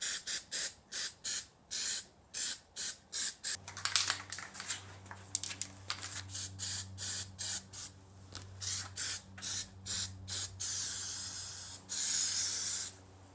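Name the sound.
aerosol spray paint spraying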